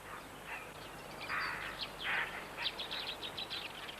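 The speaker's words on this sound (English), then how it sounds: "The bee-eaters are by no means newcomers to the Danakil desert." Bee-eaters call along the banks of the Awash River in the Danakil desert, a faint scatter of short chirps that quickens into a run of rapid notes toward the end.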